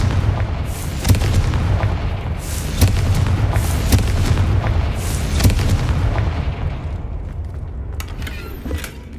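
Repeated booming blasts of the Confringo fire spell in Hogwarts Legacy, several loud impacts at a steady pace over a rumbling low background, thinning to a few sharp cracks at the end.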